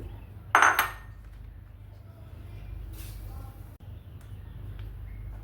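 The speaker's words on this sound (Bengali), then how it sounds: "পাত্রে কিন্তু ঘি দিয়ে দিয়েছি। প্রথমে আমি খেজুরটা দিয়ে দিচ্ছি।" Dates dropped into a pot already holding ghee, heard as one brief clatter and clink of kitchenware near the start, then only a low steady background hum.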